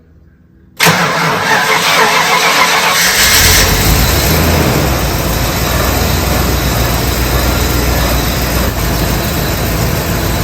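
A Holden HSV VP Senator engine fires up for the first time after sitting four years: a cranking catch, then a loud, steady idle rumble that holds through the rest.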